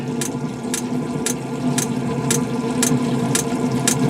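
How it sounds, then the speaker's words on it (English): Steady, rapid clicking repeating about twice per second over a continuous low mechanical hum, the fuel pump of an Espar preheater ticking away nearby. "You hear that fuel pump just a clicking away?"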